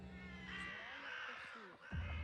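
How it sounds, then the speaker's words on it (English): Crows caw in a few drawn-out, rasping calls, fairly close and clear over a quiet outdoor background, with a short gap before a final lower call. "Crows gather here all the time, and they sit in front of my window cawing"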